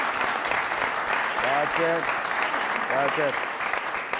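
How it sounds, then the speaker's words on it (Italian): Audience applause greeting a football coach on a live sports broadcast, a steady wash of clapping under a voice that speaks briefly over it. "le facciamo un applauso!"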